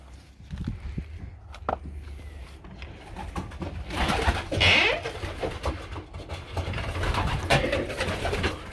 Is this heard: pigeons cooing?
yes